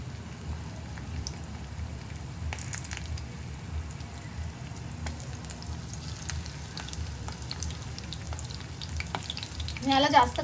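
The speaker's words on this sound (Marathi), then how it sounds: "सो आता आपण हे त्यामध्ये डीप फ्राय करून घेऊया प्रॉन्स" Prawns deep fry in oil in a small pan, giving a continuous dense bubbling sizzle with scattered pops, close and steady, and a brief clatter near the end.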